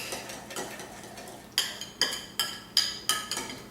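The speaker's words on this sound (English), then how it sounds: "Give it a good whisk." A whisk beats salt and pepper seasoning in a bowl, giving about six sharp, evenly spaced metallic clinks against the bowl after a softer stretch of stirring.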